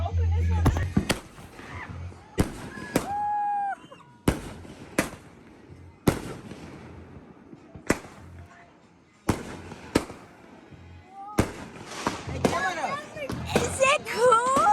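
Fourth of July fireworks and firecrackers go off nearby in a series of sharp, loud bangs spaced a second or two apart, with people talking and shouting between the blasts.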